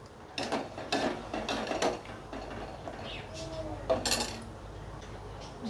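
Spoon stirring sabudana fruit sharbat in a glass or bowl, with soft clinks and scraping against the vessel, close up, in irregular strokes over a faint background.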